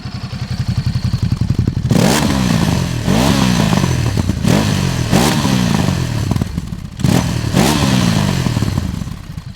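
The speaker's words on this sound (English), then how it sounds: "here's my sound test on the Ducati DesertX Rally with the standard exhaust" A Ducati DesertX Rally motorcycle with standard exhaust revs hard several times in a row, each sharp throttle blip rising and falling, loud and close with a rumbling idle between.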